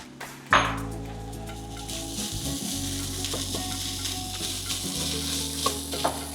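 Cooked rice for a vegan fried rice sizzles steadily in a hot pan, a continuous close frying hiss with occasional clinks of a utensil stirring against the pan.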